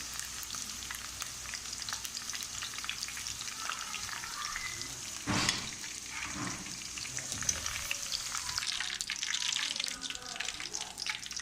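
Okra (bhindi) frying in oil in a pan for a pickle-style dish, a continuous bright sizzle with occasional knocks and one louder clatter about halfway through.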